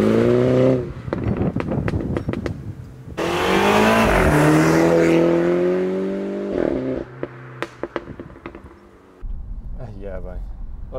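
MINI John Cooper Works with 231 hp and a PRO sport exhaust revs loudly through rising and falling sweeps, with sharp crackles and pops between throttle blips, up close; a voice talks over part of it.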